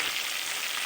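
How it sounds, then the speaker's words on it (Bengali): Spices being stirred and fried in a pan for a Bengali prawn curry: a steady, close hiss of sizzling fills the short moment without a break, with no voices over it. "এবার মশলাগুলো ভালোভাবে নেড়ে চেড়ে খানিকক্ষণ কষিয়ে নেব"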